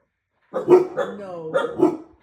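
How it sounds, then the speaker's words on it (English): A dog gives a short burst of about three close, loud barks, with no talking during them. "No dogs, no. I sense. Stop the barking."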